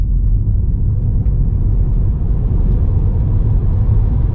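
Electric car accelerating hard at full throttle, heard as a steady low road rumble and faint motor whine from inside the cabin, continuous and unbroken.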